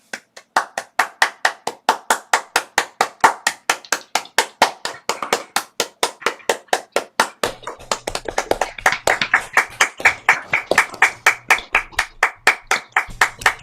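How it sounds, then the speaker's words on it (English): Online audience clapping for speakers at the close of a remote event on famine history, a string of sharp, closely miked hand claps in quick steady rhythm, with faint overlapping claps joining later. "make an applause, please, for today's amazing speakers"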